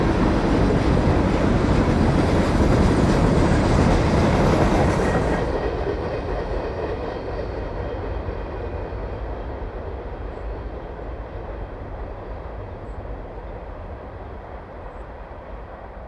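A Buffalo & Pittsburgh Railroad freight train of 20 loads and 34 empties rolls past on the former Buffalo, Rochester and Pittsburgh main line, with a loud, close rumble and rattle that eases slightly after a few seconds but keeps on steadily.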